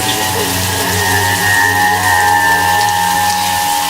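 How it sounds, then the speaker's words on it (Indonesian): Shower water running steadily in a bathroom after switching on by itself, a continuous hiss with a constant low hum beneath, no voices. "Shower itu menyala sendiri."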